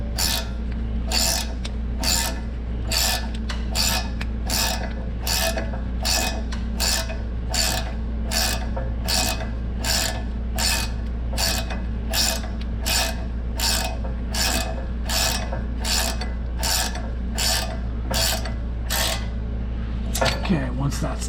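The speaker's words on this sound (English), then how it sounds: "A ratcheting wrench." A ratcheting box-end wrench snugs a 17 mm bolt during CV axle replacement on a Lexus GX470, giving a long run of evenly spaced metallic clicks, close and steady over a low background hum.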